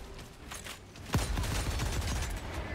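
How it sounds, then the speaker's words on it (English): Anti-material rifle fire in Helldivers 2: a loud, sharp shot lands midway, followed by a string of rapid booming reports and echoing impacts against a noisy battle background. "That was the anti-material rifle."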